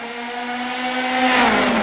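F3 race cars pulling away from a standing start at Monza, a loud sustained engine roar rising in pitch as the pack accelerates, no talk heard.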